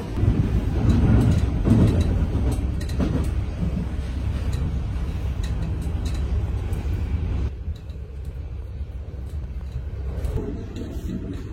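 Rumbling of a metro train in motion, with rattles and clacks from the carriage; the noise eases slightly partway through.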